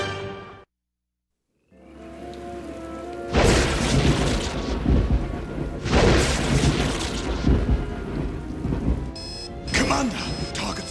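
A thunderstorm rages in an animated episode: after a brief silence, heavy rain and rolling thunder surge in loud bursts that swell and fade, with faint voices partly buried in the noise.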